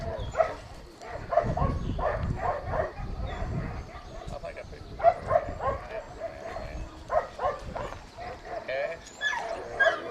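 Dog yips, whimpers and short barks rise over a busy background of people talking in a kennel or show setting, with several sharp bursts scattered through the stretch.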